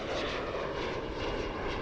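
A heavy cargo jet taking off from a busy cargo airport, a loud, steady broadband engine roar filling the whole moment with no voices.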